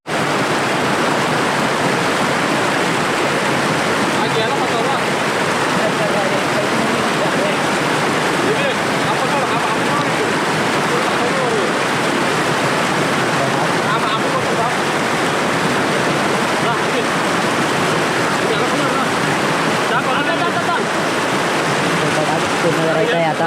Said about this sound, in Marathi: पाण्याचा फोर्स पण भरपूर आहे